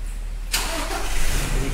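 A Toyota Innova Crysta with a low-pickup problem cranks briefly and fires into a steady idle, the engine catching abruptly after a quiet moment and settling into a close, even hum.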